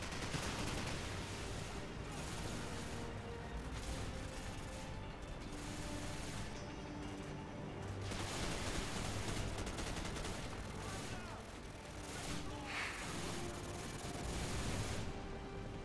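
Dense, continuous gunfire and clattering weapon sounds from a Call of Duty 4: Modern Warfare campaign battle, a steady, busy barrage without clear breaks, fairly quiet overall.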